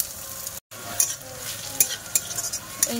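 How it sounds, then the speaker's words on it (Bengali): Chopped onion and crushed garlic sizzle steadily in hot oil in a wok, with a constant frying hiss broken by sharp clinks of a spatula stirring against the pan. "এবারে পেঁয়াজ কুচি দিয়ে দেব।"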